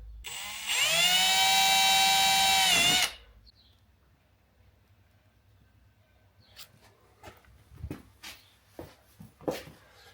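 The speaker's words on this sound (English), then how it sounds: "drill some 5mm holes" A loud power drill whirs steadily for a couple of seconds boring 5mm holes during a Land Cruiser 250 Prado suspension install, rising slightly in pitch, then stops, followed by faint scattered knocks and handling noises.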